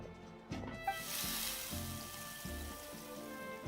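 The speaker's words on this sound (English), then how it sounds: "Sizzle." Mushrooms sizzling in a hot cast iron pan in the Genshin Impact video game, a steady bright frying hiss with a soft repeating low musical backing underneath.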